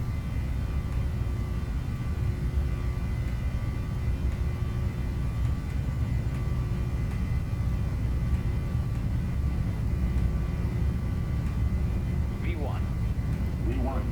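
Boeing 737 jet engines at takeoff power in Flight Simulator X, a steady loud roar with a sustained whine throughout, unchanging during the takeoff roll.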